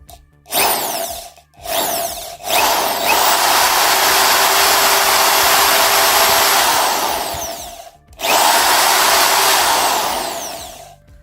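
A Piranha 550W impact drill runs loudly in hammer mode in long bursts with a rattling, hammering buzz, briefly stopping and restarting several times, close up and without talk.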